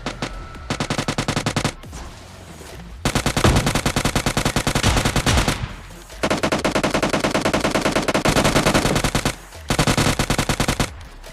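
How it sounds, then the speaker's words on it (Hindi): Loud, rapid bursts of automatic gunfire in several long volleys separated by short pauses. "मैं गोली चलानी स्टार्ट कर देता हूँ"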